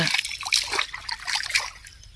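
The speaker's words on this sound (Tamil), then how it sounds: "நம்ம வயலுக்கு தண்ணி பாய்க்கிற ஓடை" Water trickling and splashing along a small irrigation stream feeding a farm field, a steady near babble of running water with bright splashy texture throughout.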